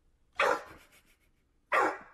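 A dog barks twice indoors, two sharp close barks about a second apart with a faint yip between them, no talking.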